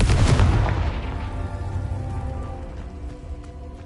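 Confringo fire spell explosion in Hogwarts Legacy: one loud, booming blast at the start that rolls off into a long rumbling decay with crackling debris, no voices.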